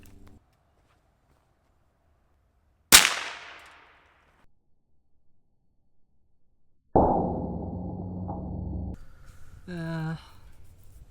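A single sharp .22 rifle shot strikes an air conditioner motor with a loud metallic crack and a ringing decay, followed later by steady humming tones and a brief warbling electronic sound.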